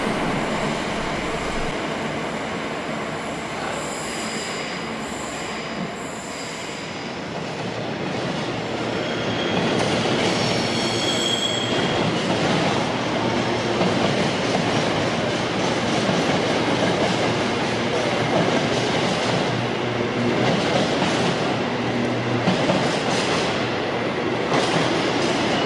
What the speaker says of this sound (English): look, parcel train.